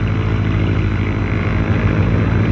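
A propeller-driven fixed-wing airplane drones close overhead during a hay drop for wild chamois in the Valais mountains, a loud, steady engine roar with no voices.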